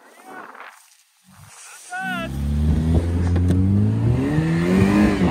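A Pontiac revs up hard for a burnout, engine climbing loud and close with a rough growl as the tires spin, after a quiet start broken by people talking.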